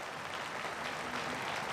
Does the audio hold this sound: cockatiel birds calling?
no